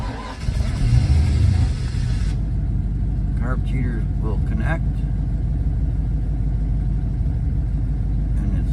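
A 1967 Ford Falcon's 302 V8 cranks and fires, then settles into a steady, slightly lean idle with a constant low rumble; someone speaks briefly over the engine near the start.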